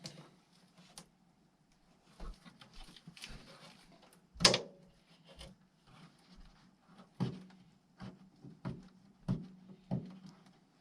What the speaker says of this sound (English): Guess we can get that door to swing open.